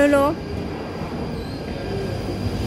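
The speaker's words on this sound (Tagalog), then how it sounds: "Darating na yung train." A train pulls into a station, its broad rumble of wheels and carriages rolling steadily through the whole stretch, with a brief squeal at the start; no one speaks.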